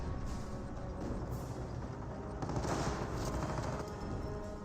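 Sustained half-track machine gun fire in Company of Heroes rattles as a dense, continuous wash of battle noise at moderate distance, with no clear breaks between rounds.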